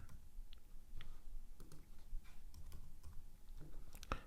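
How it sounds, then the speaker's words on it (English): Quick irregular keystrokes on a computer keyboard, close and moderately quiet, tapping out a player's name with short bursts and brief pauses, no voices. "I'm going to type in Morant."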